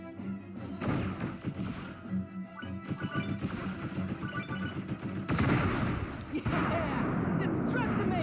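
A bomb explodes in Kid Icarus Uprising amid crashing, rumbling battle noise. A heavy loud blast lands around the middle and dense roaring debris follows, with voices and game music mixed in.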